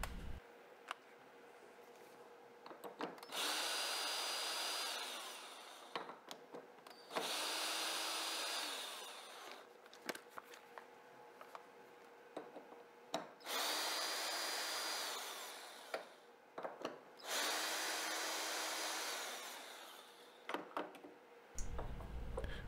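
Power drill backing screws out of an injection mold, in four separate bursts of whirring lasting a few seconds each, with quiet clicks and handling noises between them and no talking.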